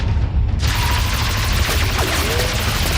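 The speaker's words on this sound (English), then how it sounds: "They're gonna breach the hull with all that gunfire, sir." Gunfire in a machinima action scene, a dense continuous fusillade of shots and booms filling the clip at steady loudness, with faint voices briefly in the mix.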